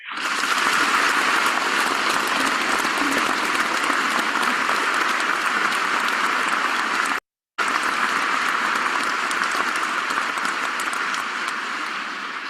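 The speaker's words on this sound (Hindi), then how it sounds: "तालियों के गड़गड़ाहट के साथ हम लोग बुलाना चाहेंगे" An audience applauds to welcome a speaker, a dense, continuous clapping that stays loud and steady, briefly cut off midway before resuming and slowly tapering near the end.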